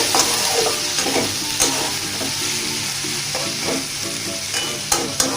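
Cabbage leaves fry in a pan and are stirred for pasta, giving a loud, steady close sizzle with intermittent scraping knocks of the spatula, no talking.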